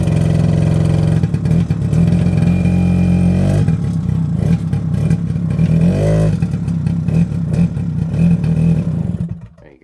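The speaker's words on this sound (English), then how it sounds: "So it's going to die in a minute if I try and rev it." A Suzuki LT50 quad engine in need of a new spark plug revs up in uneven bursts, its note rising and sagging a few times before sputtering and dying away into near silence at the end.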